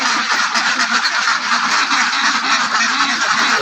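A large flock of laying ducks on a duck farm quacks and honks together in a dense, continuous, loud chorus close by, with no voices over it.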